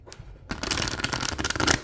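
Tarot cards being shuffled by hand: a brief soft riffle, a short pause, then a dense, continuous papery flutter and slap of cards lasting to the end, close and fairly loud, with no talking.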